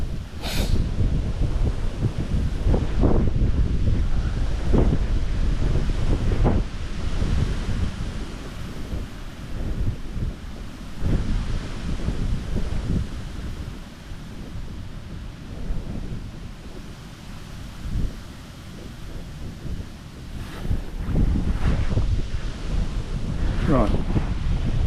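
Strong wind gusts of over 40 mph by a river roar across the microphone in repeated loud surges, rising and falling over a constant rushing background, with no one speaking.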